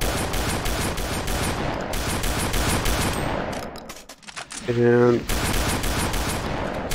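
Rapid blasts from a street sweeper shotgun in a modded Doom 2 map, a dense string of loud shots that breaks off briefly, picks up again after a short lull, and runs on steadily.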